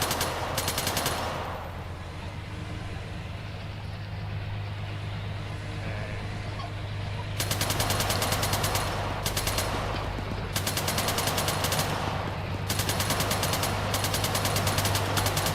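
Sustained bursts of vehicle-mounted machine gun fire from a gunner in Arma 3, loud rapid automatic volleys in several long strings with short pauses, over a steady low engine drone.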